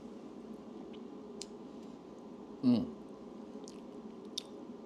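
Someone takes a bite of New Orleans-style shrimp dressed with lettuce, mayonnaise and hot sauce: one short, soft, squishy crunch near the mic against a quiet room hum, with a few faint clicks around it.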